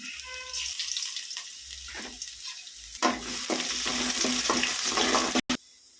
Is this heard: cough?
no